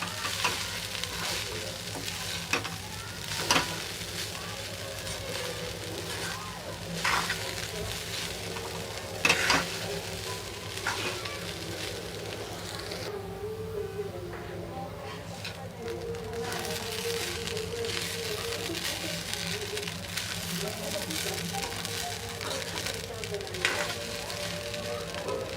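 Poha being stirred in a frying pan, a steady close sizzle under repeated scraping and clattering strokes of the spoon against the pan, with no talking.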